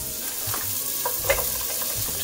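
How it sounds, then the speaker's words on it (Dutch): Vegetables stir-frying in olive oil in a wok, a continuous close sizzle with small clatters and stirring scrapes throughout. "Nou, ik ga de groenten lekker wokken."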